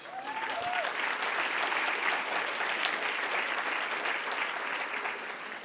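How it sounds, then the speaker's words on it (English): A conference audience gives a round of applause, steady dense clapping filling the room at moderate distance with no speech over it. "So we give her a round of applause"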